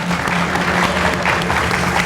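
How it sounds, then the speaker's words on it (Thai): A studio audience on a Thai dating-advice TV show applauds a doctor guest: dense, steady clapping from many hands, moderately loud and continuous throughout. "ขอเสียงปรบมือให้คุณหมอด้วยนะครับ"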